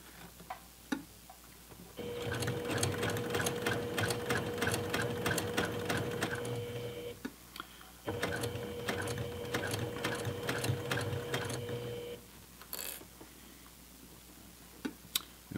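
A sewing machine makes short, small stitches across the corners of a fabric makeup bag, with two sustained rattling runs of several seconds each separated by a brief pause and framed by quiet handling clicks.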